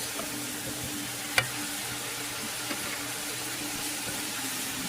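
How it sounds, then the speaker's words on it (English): Green peppers and onions sizzle steadily in a hot pan while a hearty chilli is cooked, giving a soft continuous frying hiss with one sharp clack near the start and a fainter one later. "Now we're going to add our vegetables in, green peppers and onions."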